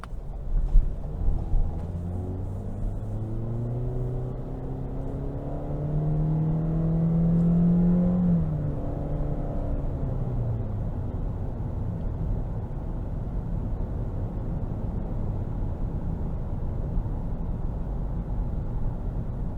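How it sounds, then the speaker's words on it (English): A 2022 Toyota Corolla LE with its 1.8-liter engine and CVT drives on the road, its steady engine drone swelling and climbing in pitch partway through, then easing back under constant road and tire noise. "next I think we're going to go ahead and take this Corolla LE out on the road for a quick test drive."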